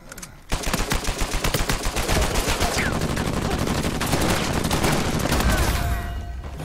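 Dense gunfire in an Uncharted 4 multiplayer beta match: rapid, overlapping automatic bursts rattle almost continuously, close and loud, with a brief voice under the shooting.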